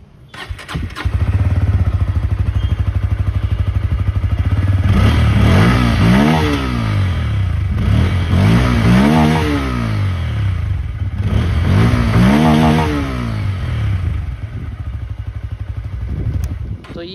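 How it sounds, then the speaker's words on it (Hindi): A Bajaj Pulsar N160 Dual ABS motorcycle idles close by, then its exhaust barks through several sharp revs that rise and fall in quick bursts over a steady engine rumble. "तो ये था फ्रेंड्स यहाँ पे N160 का एग्जॉस्ट नोट।"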